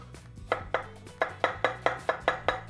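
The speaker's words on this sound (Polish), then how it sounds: "I teraz wezmę się za krojenie cebuli." Red and white onions are sliced into thin strips with a kitchen knife on a board. About nine crisp, close chops land in a quick, steady rhythm over a low background hum.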